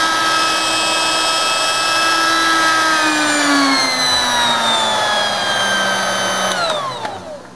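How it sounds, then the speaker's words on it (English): A blower motor on a keg burner conversion whirs steadily, driven through a single pole dimmer switch; its pitch sags gradually partway through, then winds down near the end. "And the motor just turns on."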